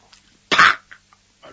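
A storyteller gives a single sharp cough in a traditional Chinese storytelling performance, loud and close, followed by a few faint throat sounds in an otherwise quiet moment.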